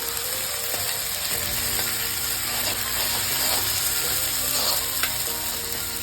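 Ginger paste frying in a pan for Andhra chicken curry, giving a steady, loud, close sizzle with faint stirring scrapes and small crackles throughout and no voices.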